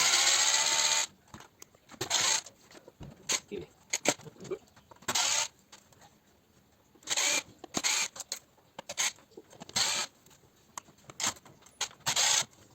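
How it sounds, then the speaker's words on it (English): A small screwdriver undoing screws while a portable CD player is dismantled for scrap, heard up close as short bursts of scraping, squeaking and clicking separated by quiet pauses. "it's just a case of undoing all the screws, seeing what we can find"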